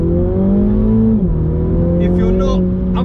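A MINI GP3 drives with a steady engine drone that dips briefly as the revs shift, then settles into a continuous hum with faint higher chirps near the end.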